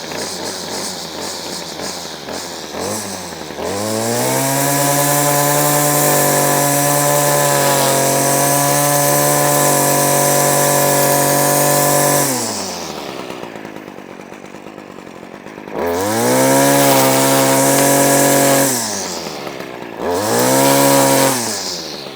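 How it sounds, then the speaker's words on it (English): String trimmer tipped on its side skimming the head across a lawn surface, engine revving loudly for long stretches, dropping to idle between bursts, then revving up again twice, close and dominant with no talking. "you're just going to skim across, like you're edging the lawn with the head of the weed eater on its side"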